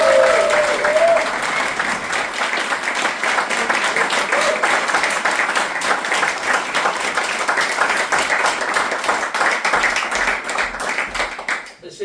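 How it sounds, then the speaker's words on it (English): Sustained audience applause at a community gaming event in Hamburg, a dense wash of many hands clapping steadily and loudly for about twelve seconds before tapering off at the end. "Let's give them a round of applause."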